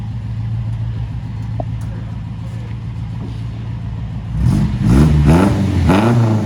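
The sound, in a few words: Ford Anglia with Pinto engine revving through new glass pack exhaust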